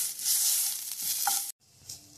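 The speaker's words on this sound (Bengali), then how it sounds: "খুব ভালো করে কিন্তু নেড়ে চেড়ে মিশিয়ে নিতে হবে।" Panch phoron and ginger fry in a little oil for a potato dish, a steady bright sizzle with scraping stirs, then an abrupt cut to a fainter frying hiss.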